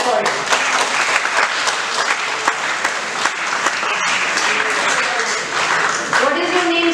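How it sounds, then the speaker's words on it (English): An audience at a communication skills workshop breaks into steady, dense applause that fills the room for several seconds, with a speaker's voice faintly audible over the clapping. "Clap for it"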